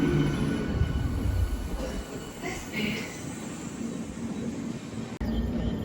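Cocanada Superfast Express rumbling through Sanjeevaiah Park station as it crosses over past an MMTS local train, steady rolling wheel noise with faint squeals, voices talking over it.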